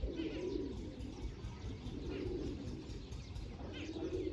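Big pigeons, some around seventeen or eighteen years old, give deep, rolling coos in a slow repeating rhythm, close and clear over a steady low hum, with no voices.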